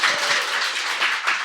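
An audience claps at a panel discussion, a brief burst of dense, even applause at moderate loudness with no talk over it.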